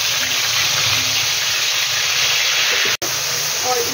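Ginger-garlic paste fries hard in a pan for chicken karahi, a loud, steady sizzling hiss that runs nearly unbroken, with one brief drop-out near the end.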